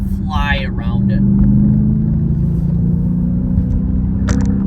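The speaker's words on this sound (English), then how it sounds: "now I'm going to take this corner in sport mode and just fly around it" Jeep Grand Cherokee SRT in sport mode taking a corner fast: a steady, deep engine drone and road rumble fills the cabin, with a brief voice at the start and a short squeak near the end.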